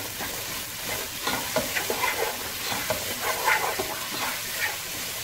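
Ingredients for rava (semolina) pulav sauté in a pan, giving a steady close sizzle broken by repeated scraping and clattering strokes of a spoon as they are stirred.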